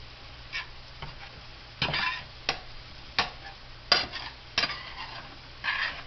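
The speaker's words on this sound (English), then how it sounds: "Keep stirring, continual stir." A utensil stirs food in an electric pan fryer, making intermittent clinks and scrapes against the pan at an uneven rhythm, close by and fairly quiet.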